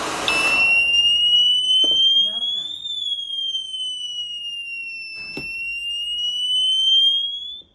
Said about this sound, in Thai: มีอะลามเข้ามาที่ตัวคอนโทรลแพนเนลนะครับ รวมถึงพวกสโตบไลท์ของเรานะครับ ก็จะ ทำงานส่งเสียงออกมาครับผม